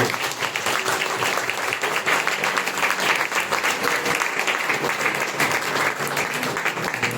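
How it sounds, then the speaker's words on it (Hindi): A Hindi-speaking church congregation breaks into loud, dense, unbroken clapping that fills the room, steady and close for several seconds with no pauses. "उस परमेश्वर का जोरदार ताली बजाने से"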